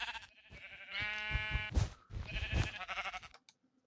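Minecraft sheep bleating, a few wavering baa calls in quick succession, clear and close with a short silence at the end.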